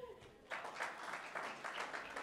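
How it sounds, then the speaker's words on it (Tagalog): Fathers in a church congregation start clapping during a sermon, a moderate burst of group applause rising after a brief quiet lead-in and continuing steadily at a modest level. "Pumalakpak po ang mga tatay."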